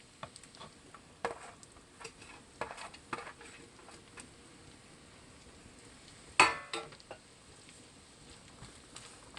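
Finely chopped onion sautéing in a pan for a keto palak paneer bhurji, with quiet scattered scrapes and stirring clicks and one sharper utensil knock partway through, over a faint low background.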